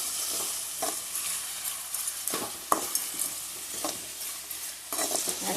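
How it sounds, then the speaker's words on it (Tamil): Onions and spices sautéing for chicken curry in a pan, salted, with a steady close sizzle and repeated scraping stirs of a spoon against the pan. "நல்லா வதங்கட்டும்"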